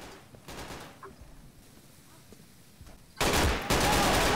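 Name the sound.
gunfire in Insurgency video game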